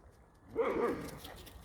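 A dog gives a short bark or yelp outdoors during a walk in woodland, a single brief burst rising from quiet background noise.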